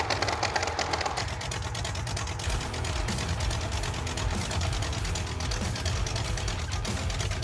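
Car engine with an overheating cooling system labours steadily up a hill, a continuous low rumble with a rapid mechanical clatter throughout and no pauses.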